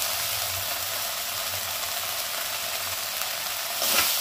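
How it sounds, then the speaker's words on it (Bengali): Masala spice paste frying in a pan for a Bengali katla fish curry, a dense steady sizzle and crackle, close and even throughout, with a slight scrape near the end. "মশলাটাকে ভালো করে কষিয়ে নেব।"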